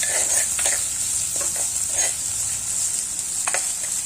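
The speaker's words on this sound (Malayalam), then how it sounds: "ഇഞ്ചി വെളുത്തുള്ളിയും കൂടെ ഇതിനകത്തോട്ട് ചേർത്ത് നല്ലപോലെ ഒന്ന് വാട്ടണം" Ginger, garlic and shallots sautéing in a pan for a prawn curry, a steady sizzle with intermittent scraping stir strokes throughout, close and alone with no talk.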